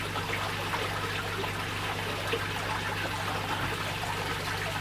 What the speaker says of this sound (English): Little waterfall's working lovely.